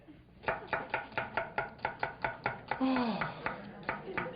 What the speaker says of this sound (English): Now what we do with these, with the carrots and the celery, is you chop them up.